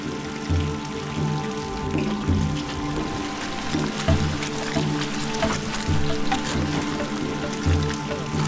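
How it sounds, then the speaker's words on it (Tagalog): Rain pours down hard and steady, drumming on surfaces with a dense patter and occasional heavier thuds. "biglang bumuhos ang malakas na ulan."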